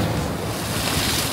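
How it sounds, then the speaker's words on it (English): Sea waves surging against rocks on the coast at San Sebastian, Spain, a steady broadband wash of surf with wind noise on the microphone, close and continuous with no talking. "The water keeps hitting the rock too."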